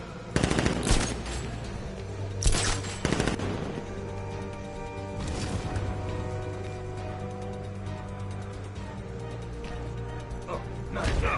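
Gunfire in the video game Batman: Arkham Knight: rapid automatic bursts that come in several loud clusters over a steady musical score, with a voice talking in between.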